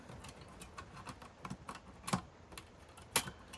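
Light keystrokes on a computer keyboard hooked up to a Packard Bell 486SX tap out in an irregular series of faint clicks, a few sharper presses standing out, with no talking.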